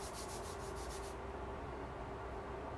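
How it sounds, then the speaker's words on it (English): Palms rub briskly together during a yoga practice, giving a close, steady swishing friction that runs without a break for a few seconds. "Rub your palms, and rubbing produces frictional energy."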